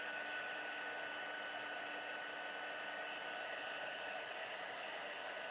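An embossing heat tool blows steadily for several seconds over a stamped image, a continuous whirring hiss with a faint motor whine and no talking.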